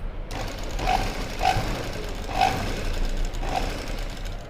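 Sewing machine stitching a blouse lining, running in short bursts of a few fast stitches roughly once a second, close and fairly loud, with no talking.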